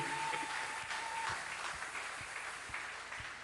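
A church congregation at a Sunday evangelical service applauding, steady, diffuse clapping that continues for several seconds and slowly fades, with faint low thumps underneath.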